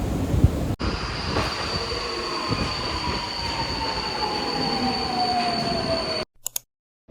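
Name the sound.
metro train running, wheels squealing, Budapest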